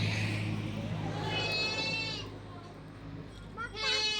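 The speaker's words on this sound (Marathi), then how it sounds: "शंभूला पकडायचे बकरी." A goat being caught on a farm bleats twice in short wavering cries, once in the middle and again at the end, close by, while people talk around it.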